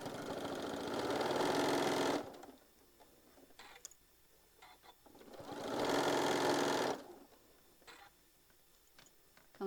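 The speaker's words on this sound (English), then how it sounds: "we're going to stitch a 1/4 inch on this side and then a 1/4 inch on the other, and we're going to go real slow right here" A sewing machine stitching a slow quarter-inch seam through thick layers of a fabric tote, two steady whirring runs of needle chatter separated by quiet pauses with small ticks and clicks.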